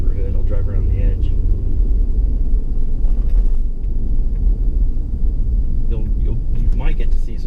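A car drives steadily through a residential neighborhood in Umm Ghuwailina, its engine and road noise forming a continuous low rumble, with a voice talking over it at times.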